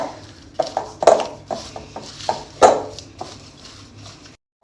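Ground spice masala being mixed into a chilli pickle in a bowl, a series of irregular clanks and scrapes of a spoon against the vessel, close and fairly loud, ending abruptly.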